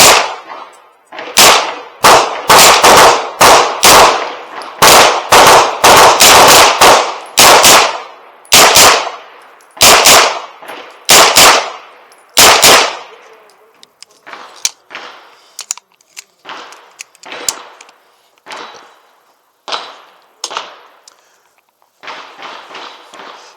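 Aero Precision EPC 9 pistol caliber carbine fired at a gun range: a loud, rapid string of sharp close shots, then slower, fainter scattered shots from other lanes.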